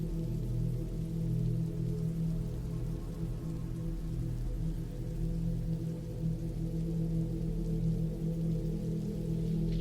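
Rain falls steadily and evenly throughout, a constant soft wash with a low rumbling bed and no voices.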